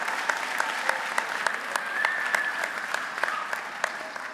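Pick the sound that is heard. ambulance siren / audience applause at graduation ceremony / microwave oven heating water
audience applause at graduation ceremony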